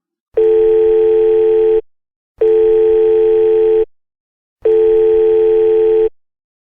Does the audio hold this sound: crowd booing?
no